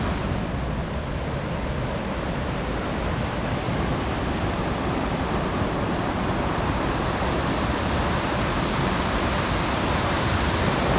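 A steady, powerful roar of falling water from the Salto São Pedro, a 125-metre waterfall in Faxinal, Paraná, fills the whole stretch as an unbroken wash of noise with no voices.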